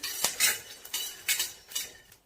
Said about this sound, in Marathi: इथं 2 चमचे धने घेतलेले, धने टाकायचे, परतून घ्यायचे